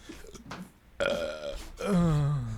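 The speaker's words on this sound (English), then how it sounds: "I'll burp a third time." Two loud, croaky burps from a person: a shorter one first, then a longer, deeper drawn-out belch after a brief pause, close to the microphone with no talking.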